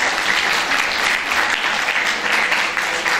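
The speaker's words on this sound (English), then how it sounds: "I think Anvita deserves a huge round of applause." Audience applause at a school literary fest, sustained and dense for a few seconds, loud and even with no talk over it.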